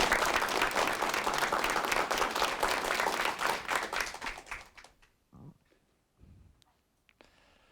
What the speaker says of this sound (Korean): 첫 번째 강의 그러면은 큰 박수로 청해 듣도록 하겠습니다